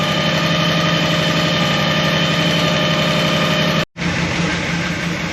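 A car engine with a swapped camshaft runs at a fast, steady idle with a constant hum, cutting out for an instant before resuming.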